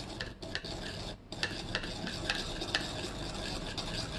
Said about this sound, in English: And then I'm just going to mix it. And you can hear it's very grainy, the sound, because it doesn't dissolve very easily.